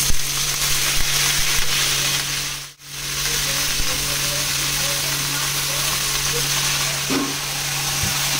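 Ingredients frying in oil for palang shaak shukto, a loud continuous sizzle and hiss that briefly drops out near the middle, then resumes evenly to the end.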